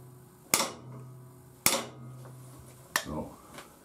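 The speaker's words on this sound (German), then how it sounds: "großen Hammer drunter halten, mit dem kleinen Hammer schlagen, dass man nicht so viel Kraft auf die Welle ausübt" Metal hammer blows on a scooter shaft while a larger hammer is held beneath it, during work on a Piaggio Ciao moped: three sharp, close metallic strikes spaced about a second apart, each ringing briefly before fading.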